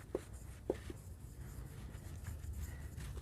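A pen scratching across paper while filling in an accounting ledger, two or three short strokes near the start and then faint continuous scribbling beneath a steady low background hum, no one speaking.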